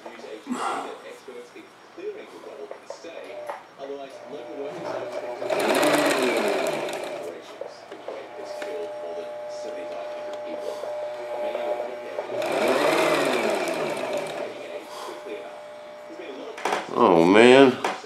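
Home sewing machine stitching in bursts, with two longer loud runs of rapid whirring and clatter between quieter handling noises, close by, while a person talks briefly near the end.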